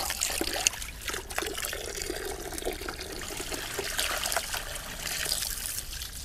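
Water trickles and splashes continuously as it is poured out of a glass aquarium made from a fridge, a fairly quiet, steady running sound with no voices.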